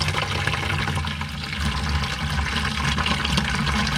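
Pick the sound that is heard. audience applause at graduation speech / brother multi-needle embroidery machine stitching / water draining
water draining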